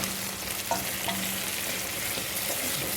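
Continuous loud sizzling and crackling of meat for meatballs frying in a hot pan, with brief soft clinks of a utensil.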